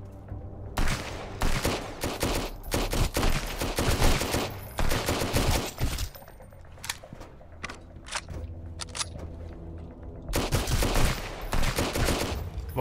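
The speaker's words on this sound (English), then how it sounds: "There's still somebody with machine gun" Machine gun fire from a pirate attack on a bridge in the survival game Sunkenland comes in repeated rapid bursts, loud and close, separated by short quieter gaps, with no talking.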